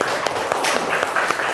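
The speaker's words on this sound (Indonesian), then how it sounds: "tepuk tangan" A classroom of students claps for a presenting group, a brisk, dense patter of many hands that stays fairly even for the whole stretch.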